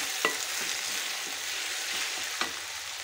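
Onions and green chilies frying in a pan, a steady hiss of sizzling oil with a couple of sharp spoon scrapes as they are stirred.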